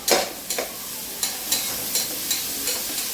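Egg fried rice frying in a pan, with a steady sizzle broken by repeated sharp scraping stirs of a spatula at roughly half-second intervals, close and alone without talk.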